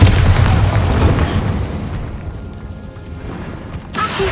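Bombarda blasting spell cast in the Hogwarts Legacy video game, a loud booming explosion with a heavy low rumble that slowly fades over a few seconds, followed by a smaller sharp burst near the end.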